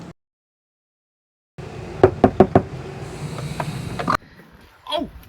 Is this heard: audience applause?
no